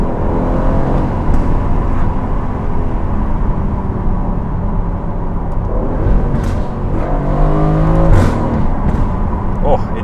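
An Aston Martin Vantage V8 drones loudly and steadily while driving, its revs swelling toward the end, with a voice speaking over the engine at times.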